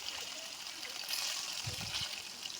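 Rohu fish pieces fry in hot mustard oil with a steady, close bubbling sizzle that holds throughout, rising slightly in a couple of spots as the pieces go in.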